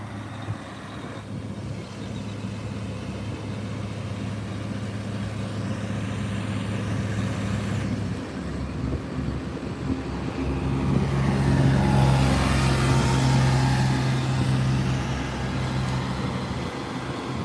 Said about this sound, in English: they are revving up that SPMT right now